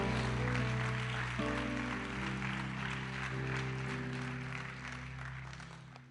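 A church congregation applauds at a revival service, sustained dense clapping over a held organ or keyboard chord, fairly faint and gradually fading toward the end.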